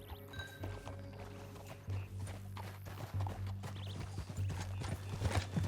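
Horse hooves clip-clop in Red Dead Redemption 2, a brisk, uneven walking rhythm over soft ground under a low steady drone, with a brief snort or whinny partway through.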